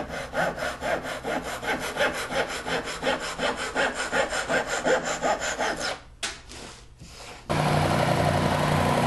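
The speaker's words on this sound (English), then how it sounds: "The insides of the slats can easily be cut out with either a scroll saw, a jigsaw, or a handheld coping saw." A saw cuts out the insides of wooden clock slats with fast, even back-and-forth strokes for about six seconds, then stops briefly before a steady mechanical hum begins.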